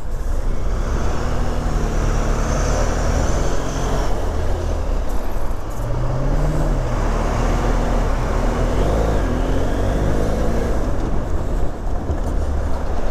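Steady road traffic with cars and heavier vehicles rolling past nearby, a continuous loud wash of tyre and engine noise with no voices over it.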